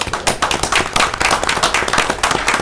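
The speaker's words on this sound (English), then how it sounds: "I want to publicly applaud you for that" Steady applause from a group of people at a Caddo Parish Commission meeting, dense overlapping claps continuing throughout, fairly close and loud, with no talking.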